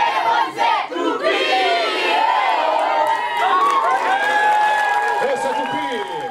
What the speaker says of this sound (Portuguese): O público aplaudia com entusiasmo os grupos que passaram pela principal rua do centro de Gaspar